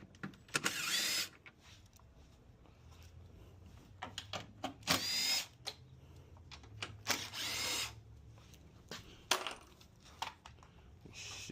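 A power tool spins out 8mm bolts while a turbocharger is being removed from a 2013 Ford Escape. It comes in several short, loud bursts of drill whir separated by clanks and handling noise, with no talk.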